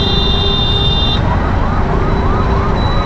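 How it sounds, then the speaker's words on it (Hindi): Ambulance siren wailing in a jammed road, loud and continuous with repeating rising-falling sweeps over a dense traffic rumble, a steady high tone cutting off partway through. "और ये देखो एम्बुलेंस जा रही है। इस वाली रोड में तो और ज़्यादा जाम है, फंस गई एम्बुलेंस।"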